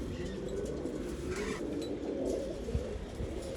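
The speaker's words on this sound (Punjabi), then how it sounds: "ਕਬੂਤਰ ਗੁੜਕਦਾ ਵੀ ਫੁੱਲ ਆ" Low, soft cooing from a Rajan-breed pigeon murmurs continuously beneath a steady background hum, with no talking.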